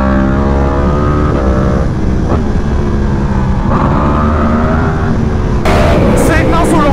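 A Yamaha R1 or R1M motorcycle engine hums and revs loudly through a compressed intercom channel, constant and harsh, with a voice talking over it.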